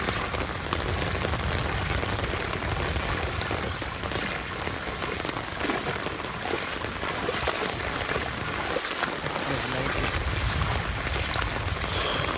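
Heavy rain pouring during a flood in Mollapara, Sylhet, a loud, dense, continuous hiss of downpour near and all around, steady throughout with no voices.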